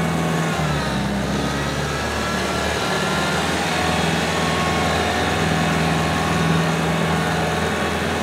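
A small tractor pulling a power harrow while planting a garden, a steady, loud engine drone running unbroken throughout, alone without talk.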